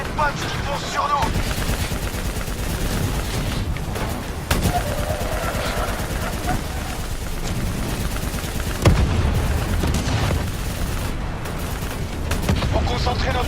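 Relentless gunfire and explosions from the Call of Duty Black Ops 3 campaign, dense bursts of shots and booms filling the whole stretch, with sharp blasts standing out near the start, middle and end.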